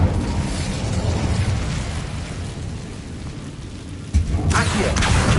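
A fiery Incendio spell blast in the Hogwarts Legacy video game on PS5 bursts out suddenly near the end, a loud crackling whoosh erupting over a steady, dense rumbling background with no talking.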